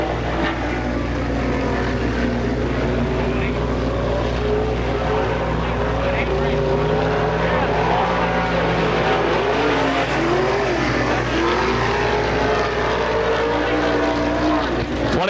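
A dirt-track race car lapping alone during STARS Pittsburgher 100 qualifying in 1998, its engine a loud continuous roar rising and falling through the turns, with a public-address announcer's voice over it.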